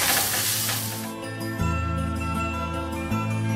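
Finely chopped cabbage hits a hot wok on high flame for a noodle stir fry, a loud steady sizzle that swells when the ingredients drop in, with faint clinks of a utensil against the pan.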